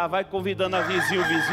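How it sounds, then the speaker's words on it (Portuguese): A rooster crows in the morning, its call running under a presenter's steady Portuguese speech on a morning religious broadcast. "olha o galo cantando nesta manhã"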